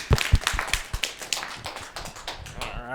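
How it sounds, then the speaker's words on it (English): A small audience in a session room gives a short, thin round of applause, a few sharp individual claps up front that loosen into scattered, uneven clapping. "Give him a round of applause."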